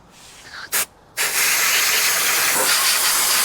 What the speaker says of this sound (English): Just blow it off with the air